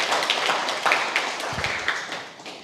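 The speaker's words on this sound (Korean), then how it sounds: "현장의 선생님들께 응원의 박수 한번 부탁드리겠습니다" Audience at an education conference on AI chatbots claps steadily for a few seconds, moderately loud, with a dense patter of hands that slowly tapers.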